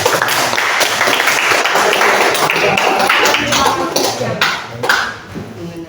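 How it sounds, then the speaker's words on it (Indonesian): A classroom applauds a student, with a dense, steady wash of clapping from many hands held at an even level for several seconds, mixed with a few voices, before tapering off at the end. "Tapi sebelumnya kita beri aplaus dulu."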